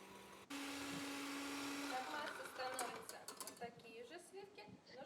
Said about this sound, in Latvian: Saldo krēmu saputošu augstā katliņā.